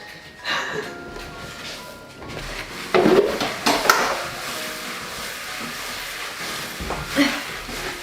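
Rice Krispies tipped into a pan of melted Mars bar and chocolate and stirred with a spoon, with sticky scraping and clattering knocks against the pan, a couple of sharper bumps standing out.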